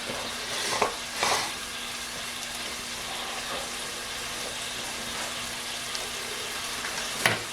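Meat browns in a hot pan with a steady, close sizzle and frying hiss, punctuated by a few louder stirring scrapes.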